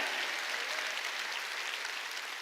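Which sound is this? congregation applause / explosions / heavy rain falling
congregation applause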